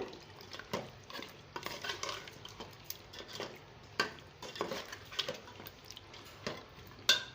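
A spoon scrapes and clinks through a pot of aloo gosht, meat curry with potatoes and ground garam masala, in fairly quiet, irregular strokes with occasional sharper knocks against the metal.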